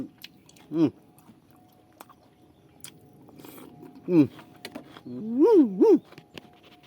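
Crunchy bites of crispy fried chicken eaten close up, a few sharp crunchy bursts spaced apart, with quiet room noise between them.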